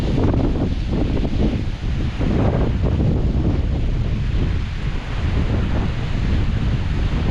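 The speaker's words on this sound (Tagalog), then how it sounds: "Lakas ng hangin oh" Strong wind roars and buffets the microphone steadily throughout, a loud continuous rushing with gusty surges and no voices.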